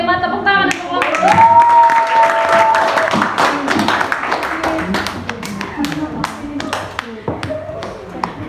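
Scattered clapping from a small group of students builds into a brief round of applause for a group presentation, with sharp hand claps and a voice over the start.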